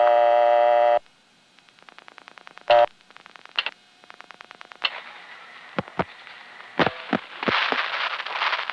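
A 1970s local coin-control payphone line, dialed to 958 with no coin deposited: a steady tone, then a run of rapid clicking pulses and short tone bursts, with sharp clicks and a rising noisy tone toward the end.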